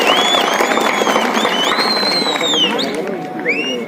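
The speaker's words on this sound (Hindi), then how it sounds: "एक बार तालियां बजाकर इनका स्वागत करिए" A crowd at a political rally in Gangolihat applauds to welcome a speaker, steady clapping mixed with a few shrill whistles and murmuring voices, gradually easing off.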